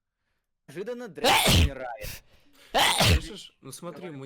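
A sneeze, sounded as a voiced, imitated burst in a comic streamer setting, bursts out twice amid Russian speech, each loud and short with a breathy rush, with talking before, between and after.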